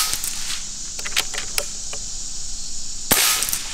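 A JSAR Raptor .30 caliber air rifle fires one sharp, loud crack near the end while plinking at a range, following a scatter of small faint clicks.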